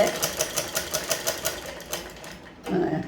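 A sewing machine stitches a pillow in a steady run of rapid, evenly spaced clatters for about two and a half seconds, then stops.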